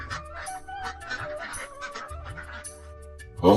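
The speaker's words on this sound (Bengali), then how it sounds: "পুকুরের ওপর থেকে ঘাস আর পুকুর থেকে মাছ খেয়ে তাদের হাঁস অনেক বড় হয়ে যায়" Cartoon ducks raised at a pond honk and quack in quick repeated bursts, loud and close over background music, ending in a sudden louder burst.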